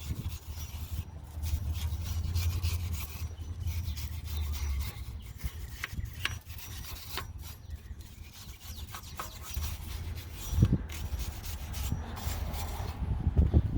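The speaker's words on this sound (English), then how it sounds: "we're gonna take a little brush here and just clean around the center of it" A small brush scrubs grease around the center of a Mercedes rear brake rotor, giving a close, continuous scratchy rubbing with irregular strokes and a few light knocks.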